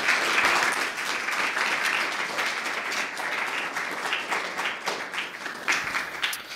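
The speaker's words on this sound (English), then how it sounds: "let's give them a round of applause" Audience members at a Barclay College spring academic symposium clap for the presenters in a sustained, fairly even round of applause that rises at the start and continues without speech.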